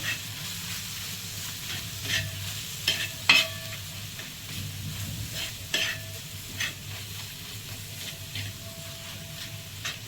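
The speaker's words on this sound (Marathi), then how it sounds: "दोन चमचे घरगुती लाल मसाला व्यवस्थित परतून घेऊया" Homemade red masala spice fries in a pan with a steady soft sizzle while a spoon stirs and scrapes against the metal in irregular clinks and taps, close up and with no talking.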